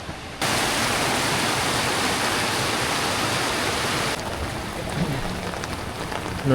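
Rain falls during a mountain hike near the Olpererhütte in Austria, a dense, steady, loud hiss of downpour that eases to a softer wash partway through, with no voices.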